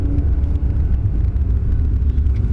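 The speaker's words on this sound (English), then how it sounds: "And those downshifts, of course." A 2018 Audi R8 with a naturally aspirated engine rumbles low and close while downshifting in manual mode, a dense continuous growl with slight surges and no voices.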